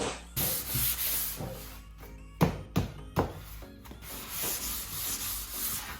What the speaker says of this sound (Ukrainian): Ми маємо нанести, провести спочатку проміжне шліфування.